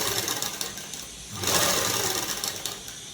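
A sewing machine runs steadily while stitching a collar-neck blouse, a continuous close whirring hum that swells louder and denser midway through the short run with no talk.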